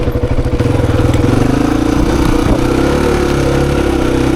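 A 26-year-old Honda XR400 dirt bike rides a twisty wooded enduro singletrack loop, its single-cylinder engine loud and close, thumping low and steady, then revving up with rising pitch as the throttle opens.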